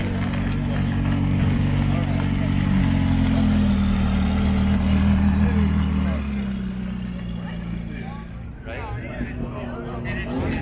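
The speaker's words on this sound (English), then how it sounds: "I think it's actually got a 78 Firebird rolling up." A 1978 Pontiac Firebird rolls up at a Southern California car gathering, its V8 droning and revving with a low, loud engine note that fades after a few seconds, with crowd chatter and voices around it.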